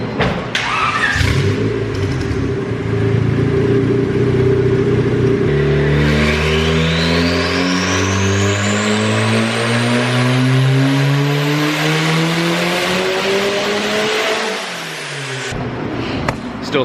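A turbocharged Honda Civic D16Y7 without VTEC revs hard on a dyno, its engine note climbing steadily through a long pull with rising harmonics and turbo whine, loud and close, then dropping off near the end.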